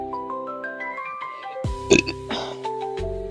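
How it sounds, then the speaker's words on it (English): A single sharp hiccup from a person sketching in an art sketchbook, heard once near the middle over soft stepped music tones. "I have the hiccups"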